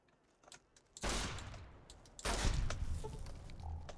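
Gunfire against giant ants in Fallout: New Vegas: two loud bursts of rapid shots, the second longer and heavier, with faint clicks between and no talk.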